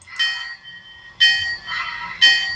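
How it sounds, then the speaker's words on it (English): A small electronic bell from a Bachmann 4-6-0 model locomotive's upgraded speaker rings three times at steady one-second intervals, bright and close, with a faint low hum underneath. "The bell doesn't sound bad."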